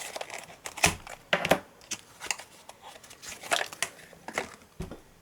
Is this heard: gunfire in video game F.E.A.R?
no